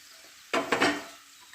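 A spoon stirs crushed peanut powder through soaked sabudana khichdi in a pan, a short close burst of two or three scraping strokes against the metal before it goes quiet again.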